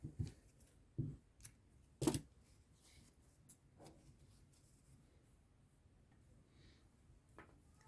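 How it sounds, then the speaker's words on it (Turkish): Scissors snip crochet yarn in a few sharp, close clicks and cuts spread out over quiet moments, with faint handling rustles between them. "Burada ipimi kesiyorum."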